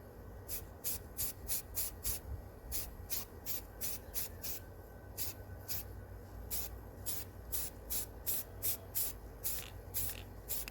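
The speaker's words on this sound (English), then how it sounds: "Careful, don't spray too much so you don't get drip marks." Repeated short hisses of a spray paint can coating a tumbler, quick bursts in uneven rhythm with brief pauses between, close and fairly loud.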